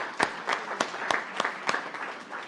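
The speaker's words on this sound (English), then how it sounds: "Let's give a big round of applause to our great healthcare workers who are here." Sparse, evenly spaced handclaps from a small press-conference audience greeting healthcare workers, sharp and regular like a few people clapping in time, lasting a couple of seconds without voices.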